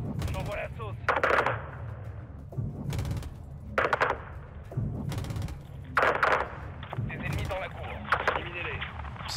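Gunfire in the Modern Warfare II game campaign: several loud bursts of shots in clusters, with a low rumble between them and a voice talking throughout.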